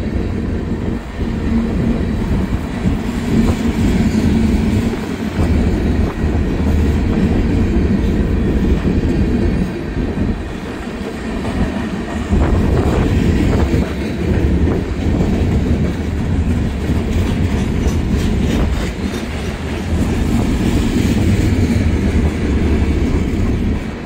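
A long train rolls steadily around a bend, a loud continuous rumble with faint rhythmic wheel clatter and occasional squeal, holding at the same level without a break.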